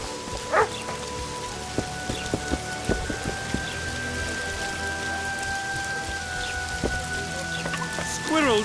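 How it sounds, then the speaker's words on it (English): Rain falling in the video game The Witcher 2, a steady patter of drops on surfaces with occasional louder splashes and soft tonal background sounds. "Squirrel sorcerers summoned this rain."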